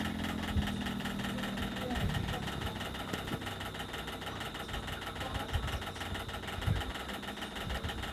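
A sewing machine stitches the side seams of a princess-cut blouse, a steady mechanical whirr with a rapid needle rhythm, running continuously under occasional faint bumps and handling sounds.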